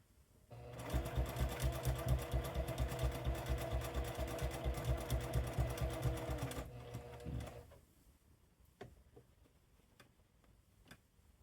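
Sewing machine stitching fabric: a fast rapid-fire clatter of needle strokes running steadily for several seconds, then stopping, followed by a few faint clicks.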